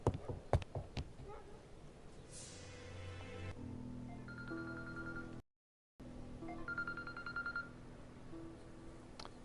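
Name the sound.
phone notification sound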